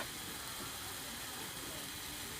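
Chicken pieces hit a hot pan of frying spices and sizzle with a loud, dense, steady hiss that fills the whole short stretch.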